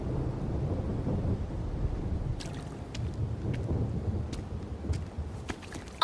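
Rolling thunder rumbles low and steady through a video game scene, with a few faint crackles and rain-like ticks scattered over the deep, continuous roar.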